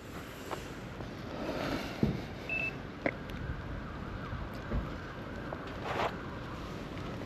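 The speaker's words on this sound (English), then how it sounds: "I can hear sirens." A distant emergency siren wails faintly as a thin sustained tone beneath steady outdoor road and traffic noise near a lorry, with occasional small knocks and bumps close by.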